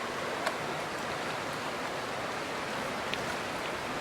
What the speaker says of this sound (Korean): 이곳 발레산에도 폭포가 있습니다.